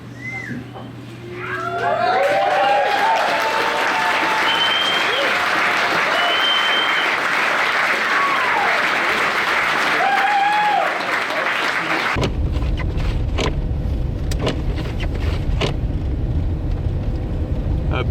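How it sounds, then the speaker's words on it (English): A large crowd claps and cheers at a movie screening inside Mammoth Brewing Company, sustained loud applause with scattered whoops that swells after a quiet start and then cuts to another scene. "That was a couple shots of the large crowd at Mammoth Brewing Company on Wednesday night watching the movie Red Line"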